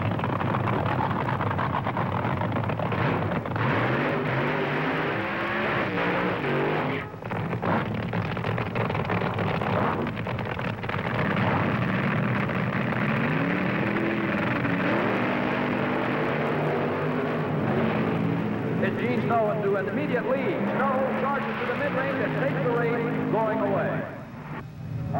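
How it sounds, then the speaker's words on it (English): Nitro funny cars of the 1970s race side by side down a drag strip, their engines a loud continuous roar with rising pitch sweeps, heard under steady commentary from an announcer. "The funny cars of Gene Snow and John Decker."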